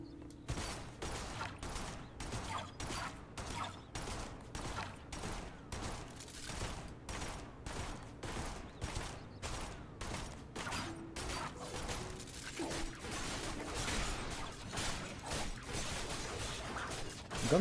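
Rapid gunfire in the video game Duet Night Abyss, repeated sharp shots in a steady rhythm with mechanical clicks underneath, running for the whole stretch at moderate loudness.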